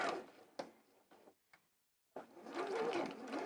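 A sewing machine stitches in short bursts, stopping and starting before running steadily and loudly for over a second, heard close up in a quilting and sewing setting.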